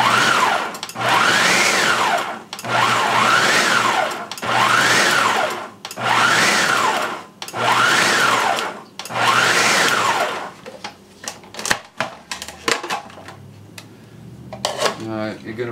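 A food processor blends homemade cookie butter in five loud, rising-and-falling motor bursts of about two seconds each, followed by clattering and handling noises as the bowl is worked.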